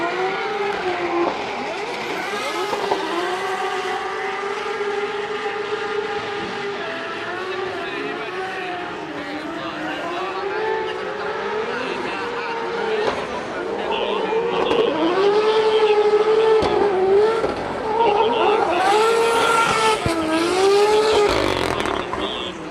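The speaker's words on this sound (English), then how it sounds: "I need to count roughly how many seconds you're actually pinning the engine in that corner" A drift car engine revs hard and holds near full throttle for a long stretch through a corner during drift competition practice in Finland, rising and falling in pitch, with a voice talking over it and possible tire noise.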